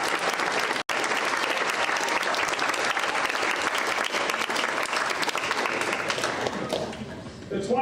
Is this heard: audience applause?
yes